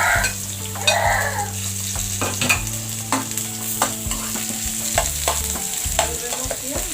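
Onion fries in a pan with garlic, a constant sizzle broken by repeated close scrapes and clinks of a utensil stirring against the metal, while a low hum runs beneath.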